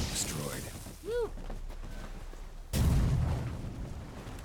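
A rot fiend nest blows up in The Witcher 3 with a loud, booming blast and rumbling aftermath, following quieter game sounds and a brief voice-like tone.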